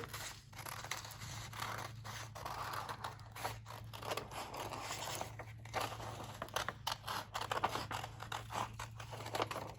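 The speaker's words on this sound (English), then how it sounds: "And then you can cut out along the iceberg here." Scissors cutting out an iceberg and bear shape from paper during a preschool storytime craft, with continuous close snipping, rustling and crinkling, moderately loud with no talk.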